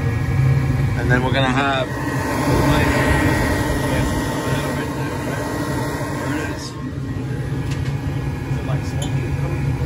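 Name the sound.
gas furnace burner igniting and firing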